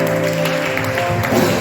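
Congregation applauding in a church service, a steady dense patter of many hands carrying on throughout, with a sustained organ or keyboard tone underneath.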